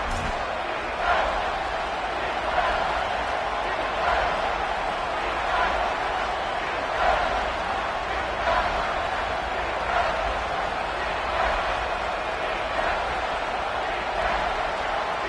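A college football stadium crowd at Oregon vs USC roars in a steady, dense wash of noise, with faint rhythmic pulses of chanting or clapping running through it and an announcer's voice over the top.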